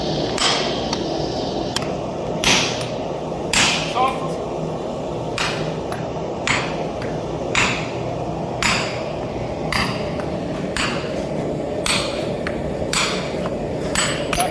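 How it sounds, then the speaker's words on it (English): Sharp metallic hammer strikes on the edges of a Viking Dane axe being forged ring out at irregular intervals, about a dozen in all, over a low steady background. "you can hit with your hammer all along on the edges"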